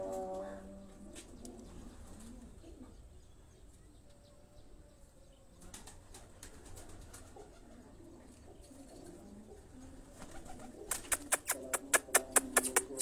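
Low, soft cooing of pigeons in the background, joined near the end by a run of rapid rhythmic flapping or clattering bursts.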